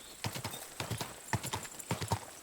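A horse trots up in Kingdom Come Deliverance 2 after being whistled for, hooves clip-clopping in a steady uneven rhythm on hard ground, close by, with a brief snort or whinny mixed in.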